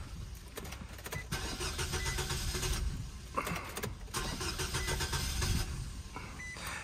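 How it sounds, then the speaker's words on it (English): A gasoline car with diesel mistakenly put in its gas tank, about a quarter full, cranks repeatedly with the starter, a loud, close, rhythmic churning in several bursts that fails to catch and run. "it act like it wanna start"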